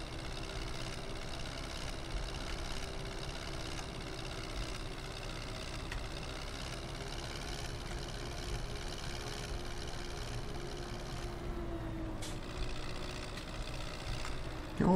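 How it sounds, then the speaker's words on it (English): Farming Simulator 17 tractor engine idling and chugging at a steady low rumble, quiet and continuous, with a faint tonal hum and a few brief clicks. "Oh, it's a bouncy wee tractor."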